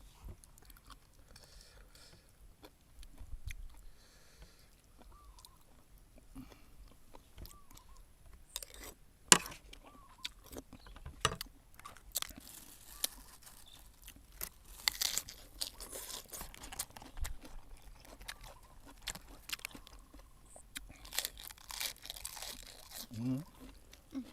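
Crunchy food being chewed during a meal of spicy khanom jeen nam ya. Faint, intermittent crisp crunches and crackles come close to the mic, with voices talking quietly at times.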